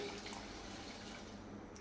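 Water pours steadily into a cooking pot holding peas and potatoes, a continuous watery rush that stays fairly even for a couple of seconds.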